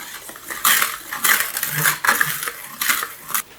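Salt is stirred into a mixture in a bowl with a utensil, a series of close scraping, clinking strokes against the bowl coming in quick uneven bursts.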